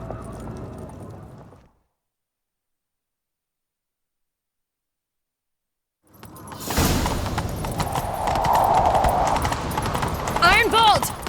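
Hoofbeats of a horse galloping in The Witcher 3, loud and rhythmic clip-clop arriving after a stretch of silence, with game sounds mixed in and a short whinny near the end; voices are heard before the silence.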